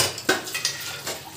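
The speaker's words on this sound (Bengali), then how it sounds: "সমস্ত বাসন মেজে এবার সব ধুয়ে দিয়ে সব উপুর করে দেবো" Dishes, pots and utensils being washed, with a few sharp clinks and knocks of metal and crockery against each other, close and fairly quiet, with no voices.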